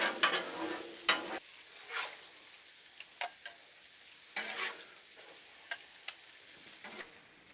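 Sausage sizzles on a Blackstone griddle set just above low, with a soft frying hiss broken by repeated spatula scrapes and taps at irregular intervals, no talking.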